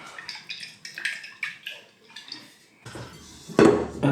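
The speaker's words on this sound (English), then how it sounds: "So I'm going to just put a bit of oil in a bowl" Oil goes into a mixing bowl while bread dough for homemade potato buns is being made, bringing a few light clinks and clatters of the bowl, with a louder knock near the end.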